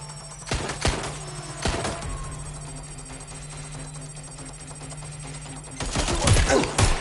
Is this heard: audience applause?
no